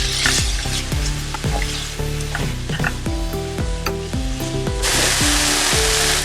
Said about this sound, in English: In the same wok, add oil and then vegetables. Toss the vegetables until coated in oil.